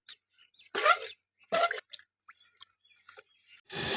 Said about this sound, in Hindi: शामिल करने के बाद बीफ को एक बार अच्छे तरीके से मिक्स कर लेंगे।